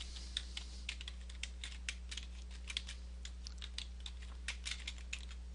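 Rapid typing on a computer keyboard, close and steady, with irregular light key clicks over a constant low electrical hum.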